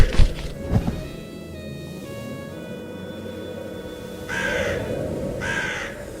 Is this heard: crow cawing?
yes